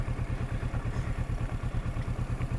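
A motorcycle engine held at maximum revs, giving a steady, loud, rhythmic throbbing pulse close by that continues without a break.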